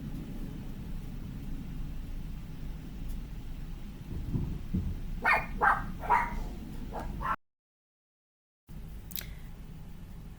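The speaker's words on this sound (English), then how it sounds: "My dogs are barking." Pet dogs barking indoors at a noise outside, a cluster of sharp barks and yips in the middle of the recording over low background rumble, moderately near but not loud.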